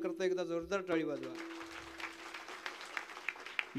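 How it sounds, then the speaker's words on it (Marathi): Audience at a Marathi kirtan applauds the bhajan singing groups, a loose, fairly close clatter of clapping that swells in after a sung or spoken voice at the start and carries on with scattered sharper claps. "या सर्व भजनी मंडळाकरता एकदा जोरदार टाळी वाजवा"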